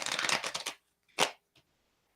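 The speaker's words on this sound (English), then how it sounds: "Let me just keep shuffling." Tarot cards being shuffled by hand, a dense run of crisp riffling flicks for most of a second, then a couple of short isolated card snaps after a pause.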